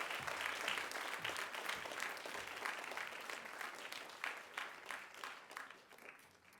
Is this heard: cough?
no